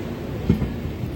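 The Pinakini Express with new coaches runs out of Chennai Central, a low steady rolling rumble from inside the train with a faint wheel knock partway through.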